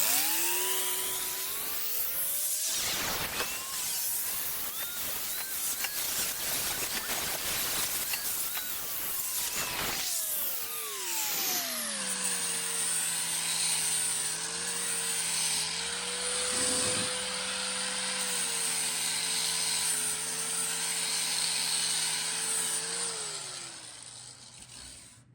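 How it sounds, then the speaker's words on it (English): An angle grinder fitted with a 40-grit flat disc grinds curb rash off an alloy wheel lip: a loud, steady high-pitched whine that dips and surges under load, then settles into a smoother, constant drone. "Use a regular grinder with a flat disc."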